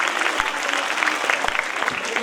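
An audience at a school annual function in India claps steadily and densely throughout, a continuous wash of applause.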